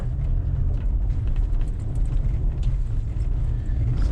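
Toyota Tacoma TRD Pro off-road at about 25 miles an hour over big bumps, a heavy low rumble with steady thumping and rattles from inside the cab, continuous and close.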